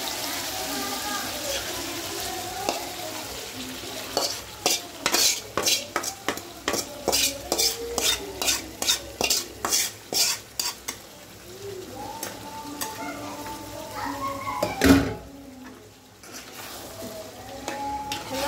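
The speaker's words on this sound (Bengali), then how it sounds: "এই যে এখন আমি কষাই নিচ্ছি। মশলাটা দেখে আমি মাংসটা ঢেলে দিই।" Meat frying in spice masala is stirred briskly with a utensil, a rapid run of rhythmic scraping clacks against the pan over a steady sizzle, followed by a louder clank and continued frying as someone talks.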